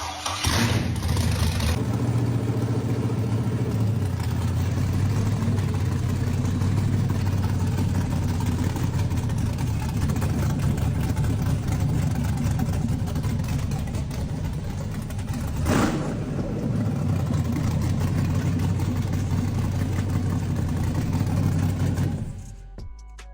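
A test-stand car engine, a low-cost imported unit, fires up and settles into a steady idle that runs loud and continuous for about twenty seconds before cutting off.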